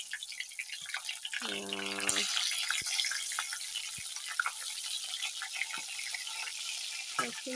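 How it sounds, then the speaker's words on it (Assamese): Fish fries in hot oil with a steady, dense sizzle that continues throughout; a brief tonal hum rises near the start, then scattered small pops and crackles sit over the constant hiss. "মাছখিনি ভাজি লওঁ"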